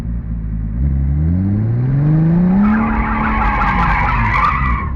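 A car drifts with its tyres skidding in a long squeal while the engine revs up and falls back. The sound is loud and close, with no talking.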